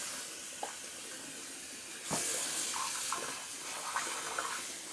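Tap water splashes and hisses while a shaving bowl is rinsed out, starting soft and then surging into a louder, fuller rush about two seconds in, with small clinks and sloshes along the way.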